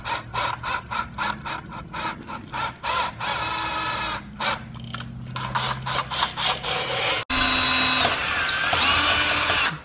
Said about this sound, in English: There's multiple spots that need to be drilled out. And the sound this makes is awful.